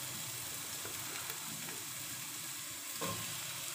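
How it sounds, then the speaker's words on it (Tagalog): White onion sautéing in a tall-sided pan, a steady close sizzle with soft scraping stirs, one slightly louder stir near the end, and no one talking. "Gigisa ko na siya guys, yung onion nga."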